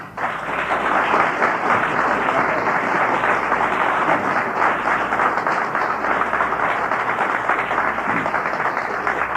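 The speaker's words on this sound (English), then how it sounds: "Will you please welcome with a rousing Chicago round of applause for Brother Abdul Allah Muhammad" An audience at a Chicago speaking event breaks into thunderous applause, with dense, sustained clapping at a steady, loud level from start to finish.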